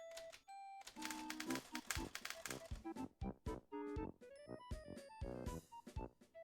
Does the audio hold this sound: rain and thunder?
no